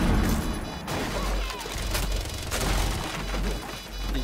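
Full magazine emptied in Rainbow Six Siege, a fast string of sharp gunshots, some booming and some thinner and more distant, spread across the whole stretch.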